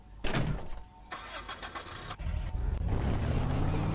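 A car in the zombie video game Dead Island cranks and starts, then its mid-pitched engine revs and rumbles steadily as it drives off, close and loud, with no talking.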